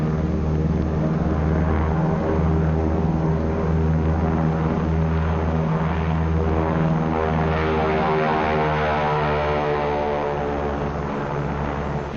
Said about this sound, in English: Navy F-6F mother control planes are catapulted from the carrier's flight deck